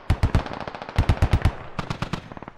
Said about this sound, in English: the U.S. flanking squad, I think, is starting to shoot at them